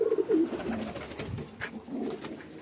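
Teddy pigeons coo on a Mirpur rooftop in low, throaty repeated calls, fairly close, over a busy outdoor background with other faint sounds.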